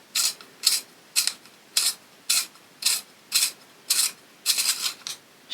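A hand-cranked pencil sharpener grinds in quick repeated bursts, about a dozen short scratchy strokes in a steady rhythm, close and fairly loud, with silence between turns.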